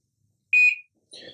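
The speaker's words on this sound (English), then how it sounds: "it will continue to beep" A QLife QCup Touch hydrogen water bottle gives a single clear electronic beep, close and fairly loud, followed by a fainter, buzzier chirp about half a second later in an otherwise silent room.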